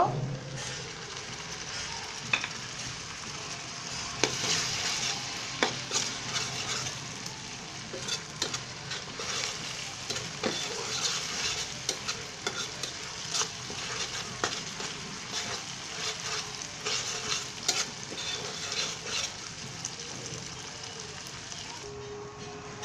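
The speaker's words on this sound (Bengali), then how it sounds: "পেঁয়াজটা হালকা ভাজা ভাজা করব।" Onions sizzle and fry in a pan while a utensil stirs them, giving a steady hiss broken by repeated sharp scraping clicks at moderate volume, with no talking.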